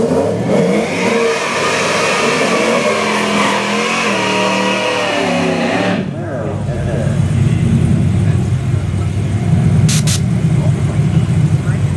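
A car engine roars and revs at close range for several seconds, then shifts to a lower, rumbling drone with a steady broadband noise.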